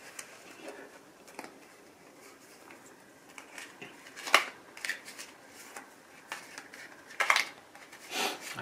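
A deck of tarot cards is shuffled in scattered, light bursts of papery slaps and clicks, close up and quiet, with no voices.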